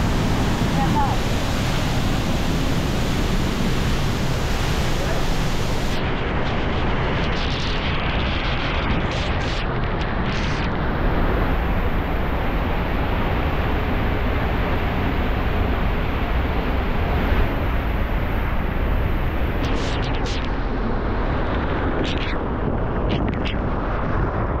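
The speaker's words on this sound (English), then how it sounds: "So this is the Salto waterfall, my friends." Loud, continuous roaring rush of falling water at Angel Falls (Salto Ángel) fills the whole stretch, a broad steady wash of noise with no break.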